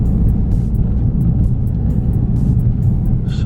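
A Ford Focus RS with a custom tune driving in second gear on a twisty road, heard from inside as a loud steady engine rumble and road drone without pause.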